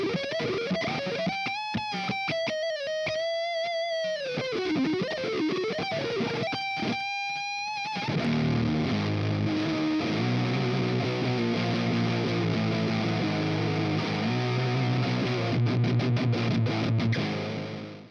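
Heavily distorted electric guitar through distortion and fuzz pedals, fuzzy and saturated, playing sustained chords and bent notes loud and continuous with no talking.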